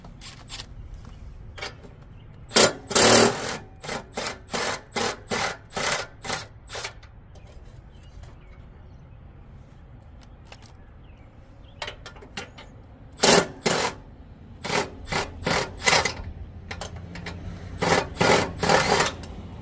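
Ratcheting 14mm socket wrench removing securing nuts and washers from the flail reel blade assembly of a Billy Goat PR550-H power rake, heard as two bursts of rapid, rhythmic clicking close by, separated by a quieter pause, with no talk.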